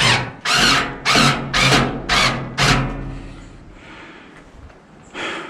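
Power tool bursts while bolts are tightened on a FIXKIT propane gas fire pit, five or six loud, close whirring pulses in quick succession followed by quieter handling noise and one more short burst.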